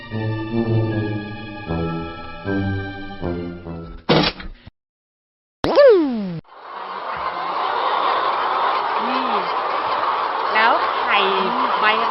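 Hens cluck and croak in short bursts over a steady outdoor hiss, after an opening stretch of plucked music and a brief silence.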